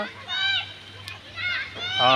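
Children's voices shouting and calling out nearby while playing outdoors under an overcast sky, with some splashing water mixed in.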